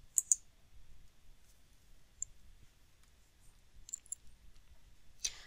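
Computer mouse clicks while working in Azure DevOps software, a few sharp, quiet, isolated clicks spread irregularly over low background hiss with no talk.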